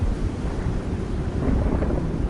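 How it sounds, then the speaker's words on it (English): A massive storm gust roars through a cottage roof as a steady, dense, low rumble that fills the whole stretch, loud and unbroken, with no voices. "a massive gust of wind tore right through their roof"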